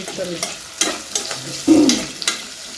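Onions frying in a pan for a greens pulao, loud close sizzling with rhythmic scraping strokes of a spatula stirring them every half second or so, one heavier stir near the end.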